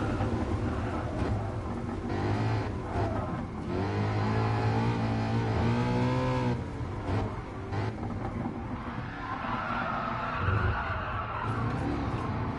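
A Ford Mustang racing in Gran Turismo Sport, the engine revving and rising in pitch as it accelerates, with tires skidding and squealing through the corners, loud and continuous throughout.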